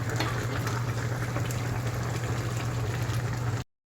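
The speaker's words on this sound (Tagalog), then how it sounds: "Pakuluan lang natin ng 5 minutes." Pumpkin and other vegetables simmer in coconut milk for ginataang gulay, a steady bubbling boil with a low hum, continuous and close, ending abruptly.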